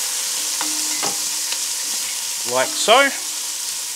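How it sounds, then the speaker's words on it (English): Onions frying in oil in a hot pot and being moved around, a soft steady sizzle with light scraping, while someone speaks briefly near the end. "we'll move those onions around in the pan"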